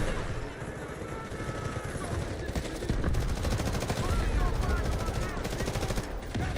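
Rapid automatic gunfire in a shooter video game, Wildgate or Delta Force, dense continuous bursts that grow louder partway through, with a voice talking over it at times.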